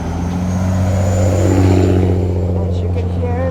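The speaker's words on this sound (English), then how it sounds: "As you can hear, the noisy trucks." Noisy trucks pass on a road on a southern winter day, a loud continuous engine roar and rumble that swells and fades as the vehicles go by close to the listener.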